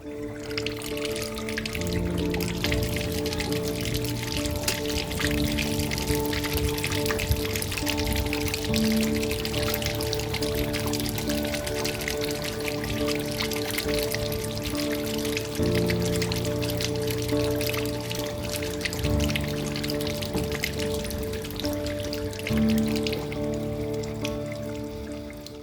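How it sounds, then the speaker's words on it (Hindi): Water drains from the drum of a washing machine that will not drain on its own, a steady trickling and pouring wash over a constant mechanical hum, close and continuous with no talk. "अब हम मशीन को ऑन करके वाटर ड्रेन का प्रोसेस शुरू करते हैं।"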